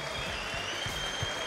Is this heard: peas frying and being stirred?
no